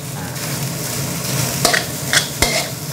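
Rice with dark soy sauce is stir-fried in a wok over high heat, with a steady sizzle under repeated scraping and clanking strokes of a spatula against the pan.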